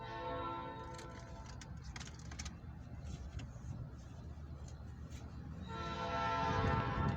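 A mixed freight train led by CFE locomotives approaches a railroad crossing, a steady distant rumble with a tonal horn-like drone that swells louder toward the end.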